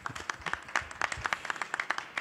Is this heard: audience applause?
yes